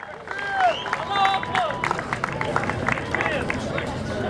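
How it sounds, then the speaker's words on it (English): A crowd at an outdoor Palestinian flag-raising ceremony at Clifton City Hall claps in a dense, scattered patter, with voices calling out and cheering over the applause. "Let's give all of them a round of applause, please"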